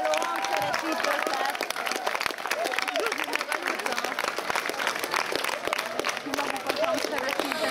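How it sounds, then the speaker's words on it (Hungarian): Sustained audience applause at a school song and dance festival, dense clapping from a large crowd filling the hall steadily throughout, with some voices mixed in. "tapsoljuk meg szerintem a felkészítő és a hangszeresítő tanárokat"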